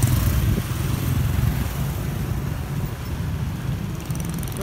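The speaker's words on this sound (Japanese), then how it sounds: "オートバイがね何せ多いですこの国" Low, continuous rumble of motorcycle engines passing on a busy street in Dalat, Vietnam, droning steadily with no voices.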